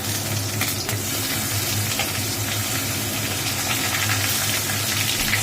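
Bay leaves and fennel seeds frying in hot oil, a steady dense sizzle and crackle close by, constant and fairly loud throughout with no talking.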